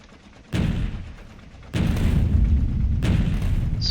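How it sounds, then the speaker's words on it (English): Tank cannon fire in the video game Factorio, three heavy booming shots with low rumbling tails, the later blasts louder and overlapping into a sustained roar, no talk. "Crap, we're firing at our cannons."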